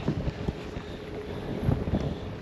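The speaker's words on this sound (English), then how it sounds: "It's windy." Gusty wind buffets the microphone on a Ranger RT 198P fishing boat out on the water, a steady rumbling rush with low thumps and no speech.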